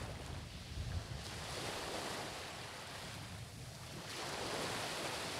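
Steady broadband sea surf rolls on with wind noise over a microphone, swelling near the start and again toward the end, a continuous ocean wash with no voices.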